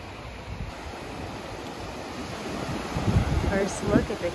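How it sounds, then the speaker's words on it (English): Caribbean Ocean surf washing onto a Bahamas shore near Freeport, a soft steady rush of waves with light wind noise, swelling slightly toward the end. "First look at the Caribbean Ocean."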